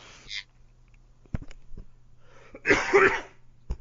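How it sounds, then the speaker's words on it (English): One harsh, close cough bursts out after a few soft clicks and faint noises in an otherwise quiet room. "I got a bit of a cough."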